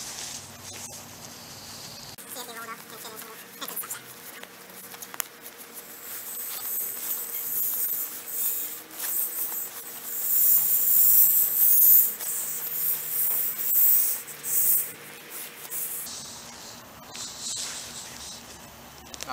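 Air hisses steadily out of an Ozark Trail self-inflating mummy sleeping pad as it is rolled up and squished under body weight, a continuous airy rush that swells louder midway before easing off.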